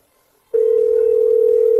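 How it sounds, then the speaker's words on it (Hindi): A telephone dial tone cuts in abruptly after a brief silence and holds as a loud, steady, unbroken hum. "मैं अभी जाओ होंगबो को फोन लगाता हूँ"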